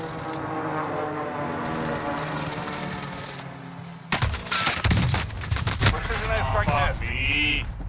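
Gunfire bursts erupt in a combat video game after a stretch of droning engine and ambient noise, loud cracking volleys and rattling fire with clattering debris close by.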